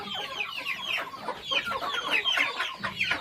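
Pure desi country chickens and roosters cluck busily at a small poultry business in Vengurla, Konkan, a dense chorus of overlapping clucks close by with no talk.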